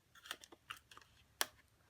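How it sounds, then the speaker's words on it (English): Scissors snip small pieces out of punched paper in a quiet room, giving a series of light, crisp cuts that end in one louder, sharper snip. "And then simply just take your scissors and snip out the bottom of the hole."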